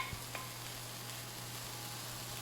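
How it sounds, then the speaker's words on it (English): Cooked brown rice, boiled pasta style, tumbles into a pan of softened vegetables, a steady faint sizzle and frying hiss running throughout with a couple of soft stirring clatters near the start. "I'm going to add my 2 cups of cooked brown rice."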